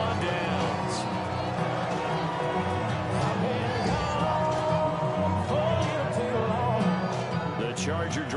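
Stadium crowd noise in a Madden football video game, a steady dense roar of cheering and whooping that holds at an even level throughout.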